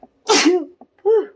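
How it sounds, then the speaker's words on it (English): A single loud, close sneeze with a breathy intake, followed by a brief exhaled sound, otherwise quiet. "I feel like I need to sneeze."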